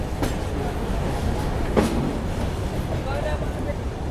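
The Gondwana Express rolls into Bhopal Junction with a continuous rumble of wheels on rails, punctuated by a few sharp metallic clanks as the carriages move along the platform.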